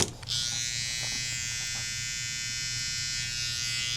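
An electric hair trimmer used for a low taper haircut runs close and steadily with a constant high buzz that stays level and unbroken throughout.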